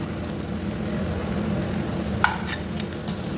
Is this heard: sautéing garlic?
yes